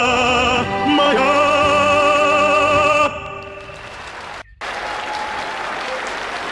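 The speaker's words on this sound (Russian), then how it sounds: "Ваши аплодисменты." Audience applause follows a sung aria performance: sustained clapping under a fading musical tone, then a brief drop before clapping resumes more faintly.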